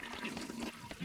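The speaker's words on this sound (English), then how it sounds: "These toilets are all very clean. Flush it once." A toilet flush in the video game West of Loathing, a soft, gurgling rush of water heard alone and fairly faint for about a second.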